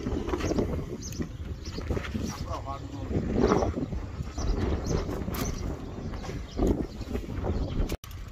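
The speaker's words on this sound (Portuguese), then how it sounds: "O vento." Wind blowing outdoors during a fibre-optic installation, a steady rough buffeting rush across the microphone with scattered knocks and handling noise, as people talk over it.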